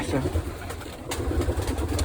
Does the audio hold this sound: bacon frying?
no